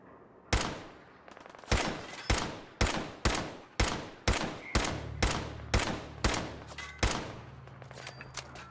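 Gunfire in Fallout 4: about a dozen loud single shots spaced roughly half a second apart, each with a short echoing tail, and a low hum joining in the later half.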